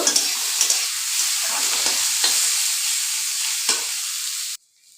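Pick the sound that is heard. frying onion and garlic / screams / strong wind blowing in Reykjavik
frying onion and garlic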